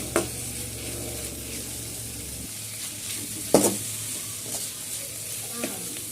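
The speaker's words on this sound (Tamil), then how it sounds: "தக்காளி சேர்த்து நல்லா வதக்கிக்கோங்க" Onion and tomato sauté in a pan, giving a soft, steady sizzle. A few clacks and scrapes of stirring break through now and then, quiet and close.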